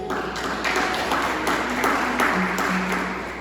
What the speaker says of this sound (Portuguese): Você pode aplaudir ao Senhor nesse momento?